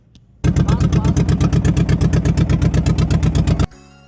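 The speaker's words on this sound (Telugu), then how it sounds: "ఇక్కడ సౌండ్ వినండి, లాంచ్ ఇది చాలా బాగుంటుంది." A motor launch engine on the Krishna river chugs loud and close in rapid, even diesel-like pulses, starting abruptly and cutting off after about three seconds, with quiet surroundings before and after.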